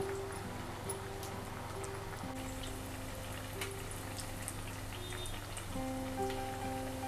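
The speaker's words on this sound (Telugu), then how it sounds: "రెండు వైపులా తిప్పుకుంటూ ఫ్రై చేసుకోవాలండి." Chana dal vadas, made with a little urad dal, fry in hot oil with a steady, dense, rain-like sizzle and crackle that stays close and even throughout.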